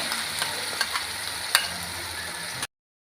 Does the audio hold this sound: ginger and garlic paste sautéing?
yes